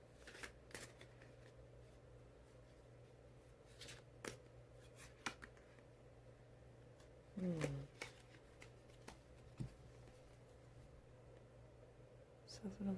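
A tarot deck is shuffled close by in soft, quick papery riffles and taps, with a couple of louder card snaps over a steady low hum.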